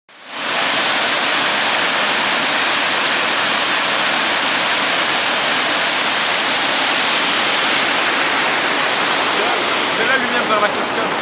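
Waterfall in Iceland, a steady broadband roar of falling water that stays loud and even from start to end, close by with no pauses.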